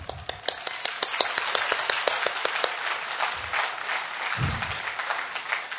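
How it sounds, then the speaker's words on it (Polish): An audience applauding at a lecture by a priest: dense, crackling clapping that carries on steadily for several seconds, with a few duller thumps mixed in. "To teraz były brawa krytyczne co do tamtej koleżanki."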